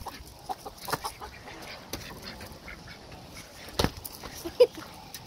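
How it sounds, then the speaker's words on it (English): Chickens cluck and a rooster calls outdoors amid scattered squawks and rustling, with a brief voice now and then. "Oh, here's the rooster. That's the rooster right there."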